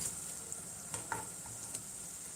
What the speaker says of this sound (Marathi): बघा छान असे टोमॅटो शिजत आहे